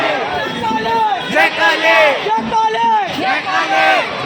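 A dense crowd of devotees packs the Garha Phatak Mahakali temple in Jabalpur, with loud close voices shouting and calling over one another in rising, surging waves.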